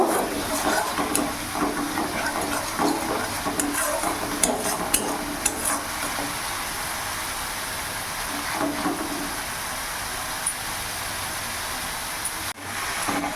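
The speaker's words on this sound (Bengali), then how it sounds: "কিছুক্ষণ মশলাটা আমি একটু নাড়াচাড়া করে কষিয়ে নেব।" Spice masala for rui fish kalia stirred and fried in a pan, a steady, dense hiss of frying with scattered scraping stir strokes running throughout, without talk.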